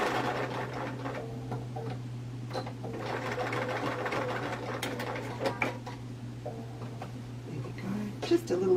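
A sewing machine stitches a simple seam with a rapid, even mechanical whir and steady hum running across the whole stretch, close by, as a few softer clicks and handling sounds break in near the end.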